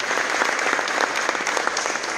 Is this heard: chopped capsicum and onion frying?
no